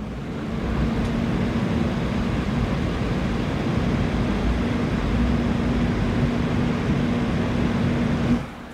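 Fans on a Thermalright Frozen Warframe 240 AIO liquid cooler run at full speed. They give a steady, loud whooshing rush with a faint constant hum, and the sound cuts off near the end.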